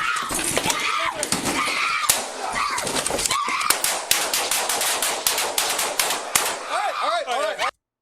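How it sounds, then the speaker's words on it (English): Rapid, repeated gunshots from a long gun during a Phoenix police response to a domestic violence shooting crack loudly and irregularly, mixed with shouting voices, before cutting off abruptly. "How many freaking rounds did they freaking shoot?"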